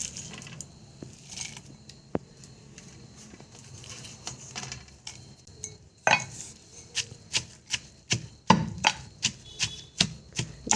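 Okra chutney with onion and garlic being pounded by hand, sharp repeated knocking strikes that start sparse and build into a steady, fast, loud rhythm, close up with no talking.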